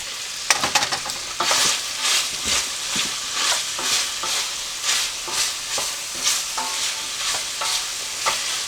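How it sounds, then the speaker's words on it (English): Vegetables for a skillet jambalaya hiss and crackle in hot olive oil, with repeated stirring and tossing scrapes setting a steady rhythm over a continuous close-up sizzle. "now we're going to go ahead and we're going to quick saute all our veggies in here"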